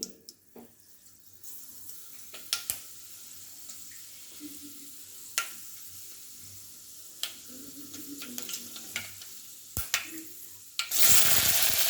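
Fenugreek seeds dropped into hot oil in a pot as tempering for an okra kuzhambu: a quiet sizzle with scattered sharp clicks and taps of a utensil, ending in a louder burst of hiss.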